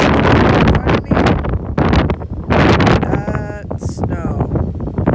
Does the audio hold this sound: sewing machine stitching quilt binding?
no